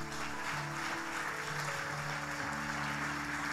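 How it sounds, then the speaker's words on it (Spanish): A church crowd applauds steadily during a sermon, sustained clapping filling the room, with a low musical drone underneath. "Dale un aplauso al Señor por eso."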